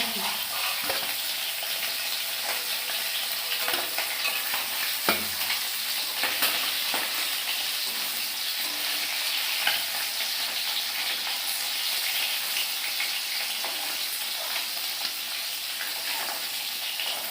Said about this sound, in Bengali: মাছ ভাজা বসাইলাম